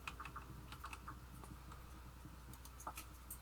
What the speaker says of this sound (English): Let's see if I can get my fingers on the right keys.